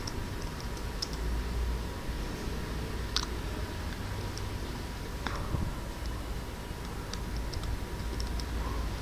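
Sparse, light keystrokes on a computer keyboard while Java code is typed, isolated clicks scattered across the span over a constant background hiss and faint hum; no speech.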